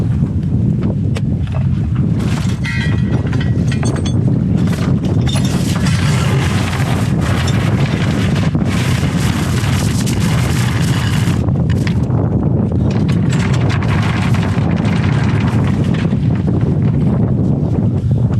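Strong wind blows over open sea among coral heads near a small boat, a continuous loud roar with crackling gusts buffeting the microphone throughout.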